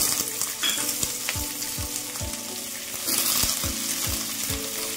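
Mixed vegetables sautéing in a pan with asafoetida and ginger for veg pulav, a steady loud sizzle broken by regular scraping spatula strokes, close and continuous with no talk.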